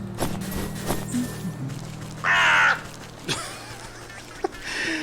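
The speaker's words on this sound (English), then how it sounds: "I will never get over how pissed off that crow sounds every time." Crow cawing in a video game: a harsh, loud caw bursts out once in the middle, with fainter calls and clicks around it over a low humming ambient bed and no speech.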